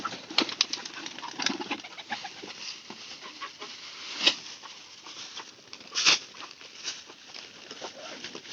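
Pigeons feeding on scattered corn alongside chickens, with repeated bursts of wing flapping, soft pecking patter and fluttery rustles close by, two sharper flurries standing out above the steady scratchy background.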